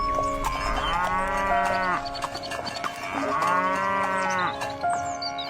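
A cow in a cartoon story gives two long, loud, drawn-out moos one after the other, each swelling and then falling away, with no talk over them.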